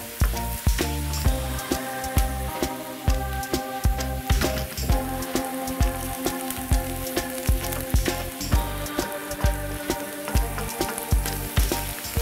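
Onions sautéing in a pan of melting butter give a steady, busy sizzle, broken by frequent sharp clicks and knocks of utensils, with a faint tonal hum running underneath throughout.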